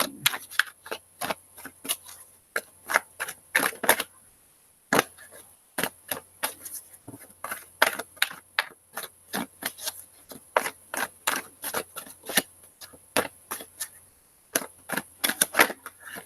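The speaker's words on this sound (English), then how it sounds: "I feel like maybe I'm shuffling these wrong a little bit" A deck of tarot cards is shuffled by hand, giving close, crisp clicks and riffling snaps in irregular bursts with brief pauses between them.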